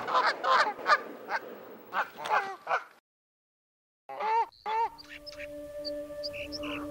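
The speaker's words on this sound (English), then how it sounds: "Returning geese take their turn to check the progress of spring thaw." Geese honk repeatedly in loud, nasal calls, close by, at a pond in Yellowstone during spring thaw, then a pause before more honking returns over a low steady hum.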